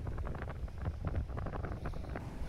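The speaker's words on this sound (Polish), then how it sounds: "wiatr wzmógł się i zmienił na północny" A strong northerly wind blows onshore over a boat at anchor off Rinia island, roaring and buffeting the microphone in loud, uneven gusts with no let-up.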